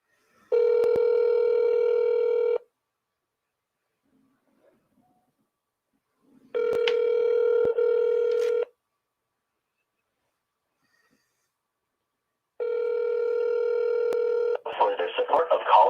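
Three bursts of steady electronic telephone tones, each about two seconds long, separated by silence, with a brief noisy crackle at the end.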